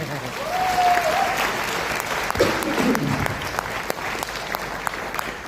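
An audience at a DXN anniversary celebration breaks into loud applause, the clapping steady throughout with a brief voice and whistle-like tone near the start.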